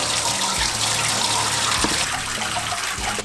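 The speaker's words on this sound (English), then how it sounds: "I am going to drain the coolant system from the radiator and from the back of the block." Coolant gushes and splashes steadily from the rear block drain of a Nissan TD42 engine in a Patrol, a close, continuous pour with no talk.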